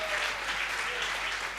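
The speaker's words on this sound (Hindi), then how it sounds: "एक बार तालियां जरा मिलके बजाएंगे तो अच्छा लगेगा साहब" Audience at a comedy show clapping together in a dense, steady burst of applause, fairly loud and filling the room without any voices over it.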